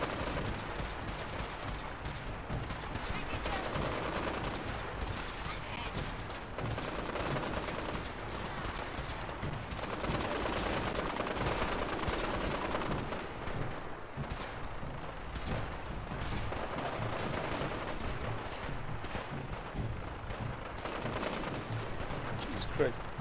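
Gunfire in the video game Fallout 4 during the Battle of Bunker Hill, rapid shots and bursts of automatic fire crackling steadily throughout at moderate loudness, mixed with thuds and background battle noise.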